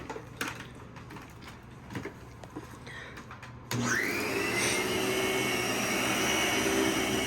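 A Lindhaus Diamanté 380 two-motor upright vacuum cleaner on soft rubber wheels starts up partway through, shifting from quiet handling noises to a loud, steady, close-up motor whine and airflow roar that holds to the end.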